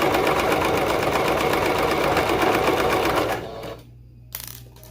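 Sewing machine running fast while stitching with black thread on a dress or romper, a loud rapid mechanical whirr with steady needle clatter that stops after about three seconds, followed by a brief click.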